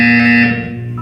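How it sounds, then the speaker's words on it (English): A loud, sustained electronic buzzer sounds in the game Portal 2, a harsh steady tone that holds for about half a second before quickly fading out. "You will hear a buzzer."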